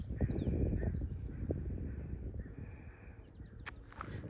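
Several birds call from a distance over steady low outdoor rumble at a historic coastal military fort, with a few brief sharper chirps near the end.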